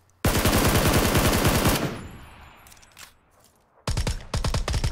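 Loud, rapid automatic gunfire from a PUBG match on Erangel fills the first second and a half, fading into a decaying tail, before more sharp bursts of shots resume close by near the end.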